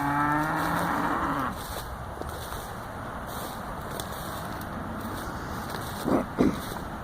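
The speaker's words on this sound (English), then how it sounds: "Oh, here comes Mama cow." A mother cow on a farm gives one long, loud moo up close that rises and then fades, followed by quiet rustling and two brief knocks near the end.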